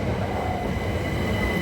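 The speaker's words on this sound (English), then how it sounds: "We just arrived here for our train," Train on a London commuter line, heard from close by as a steady rumble of rolling carriages and a high wheel whine, continuous and loud with no voices.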